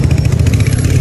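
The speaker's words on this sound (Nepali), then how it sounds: "हाम्रो अभेदाले बाइक ल्याउनु भएको छ है गाइस" A motorcycle engine running close by with a steady low throbbing idle, loud and continuous for about a second, with no talk over it.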